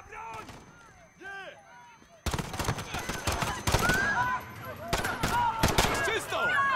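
Gunfire erupts in Call of Duty: Modern Warfare after shouted voices, turning into a loud, dense barrage of rapid shots that continues under more shouting.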